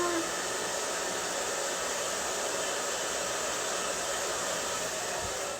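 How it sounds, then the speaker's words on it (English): A hair dryer blows steadily and fairly loud throughout while hair is being dried, a constant broadband whoosh with no talking. "let me blow dry this just a little bit more."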